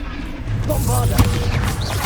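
A Bombarda spell explosion from the video game Hogwarts Legacy, a loud booming blast peaking sharply around the middle over dense continuous game noise, with a voice calling out spell names nearby.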